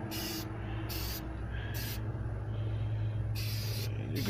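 Several short hissing bursts of aerosol spray onto a Honda Accord dashboard, each about half a second, separated by brief pauses, close by with a low steady hum underneath.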